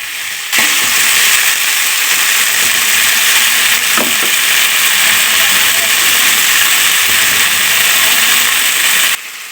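Long beans dropped into plenty of hot oil in a wok set off a sudden loud, roaring sizzle that holds steady for several seconds with a brief stir in the middle, then cuts off.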